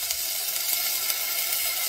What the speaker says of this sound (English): So I'm going to saute my vegetables.